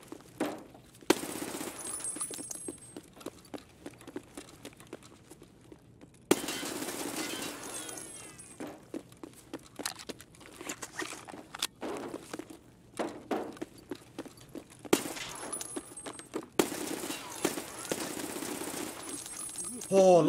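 Sharp pistol shots crack out in Escape from Tarkov's Factory map, several spaced single reports amid footsteps and clinking gear, with a voice talking in between.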